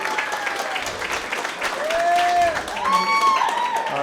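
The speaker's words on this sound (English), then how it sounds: "How many people here in a relationship? Round of applause." Comedy club audience applauding and cheering, a steady wash of clapping mixed with crowd voices and whoops, moderately loud and building slightly toward the end.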